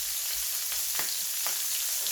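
Garlic fries in a pan with a steady, close, crackling sizzle, with a couple of brief stirring scrapes partway through.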